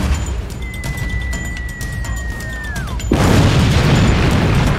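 A cannon fires in the video game Non Cannonia, a sudden loud boom that hits after a descending whistle and keeps rumbling heavily to the end.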